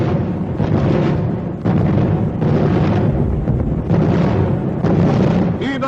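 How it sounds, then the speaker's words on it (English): Anti-aircraft flak fire during a WWII air raid over Coventry: a dense, continuous barrage of booming bursts and rumbling detonations, loud throughout, with brief dips between heavy volleys. "Die englische Flak ist auf dem Posten. Ein wahrer Feuerhagel prasselt uns entgegen."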